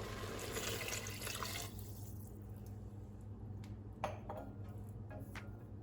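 Vegetable broth poured into an Instant Pot makes a steady liquid splash that stops after a couple of seconds, then a few faint drips and light clinks follow in quiet surroundings.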